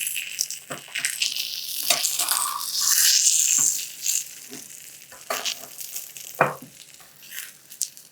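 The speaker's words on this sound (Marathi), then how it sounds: "इथे मी फुल एग फ्राय करते" An egg fries in a hot pan, a close, bright crackling sizzle that swells and eases, broken by scraping and tapping of a spatula loosening the edges; no speech.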